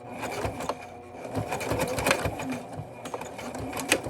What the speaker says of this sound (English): Time now to do the other side and hope that it doesn't skip some random stitches on me